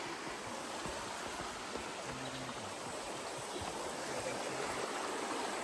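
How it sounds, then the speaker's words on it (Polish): A river rushes past the Chee Dale stepping stones in the Peak District, giving a steady broadband flowing roar with faint trickles and a brief low voice murmuring underneath. "Idziemy wzdłuż tej rzeki."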